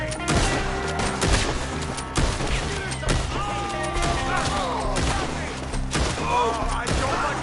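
Red Dead Redemption 2 gunfire cracks out in repeated loud shots and bursts amid game sound, with voices shouting over the battle.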